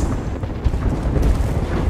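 Bombs exploding in Apex Legends, heard as a loud, continuous low rumble of overlapping blasts with no clear gaps, heavy and close.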